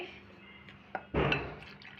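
Water goes into a bowl of rice flour: a few soft clinks, then a sudden close rush of pouring liquid that tapers off quickly.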